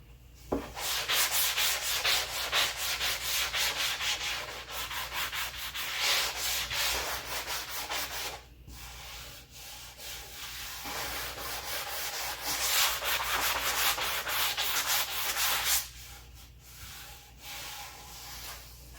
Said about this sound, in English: I'm going to go over that with just a hand sander.